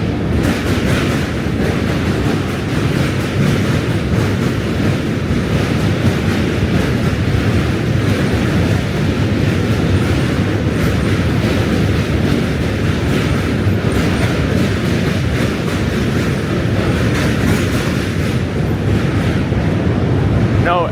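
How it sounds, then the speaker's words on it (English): A New York subway N train comes in with a loud, sustained rumble and steady rolling clatter that carries on without a break, close by in an echoing station. "N train coming in."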